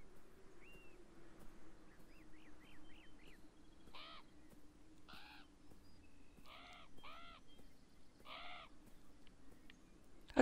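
Crows in the video game Beyond Eyes give a series of faint, spaced caws, some in quick clusters, over a quiet low hum, with a thin whistling bird call early on.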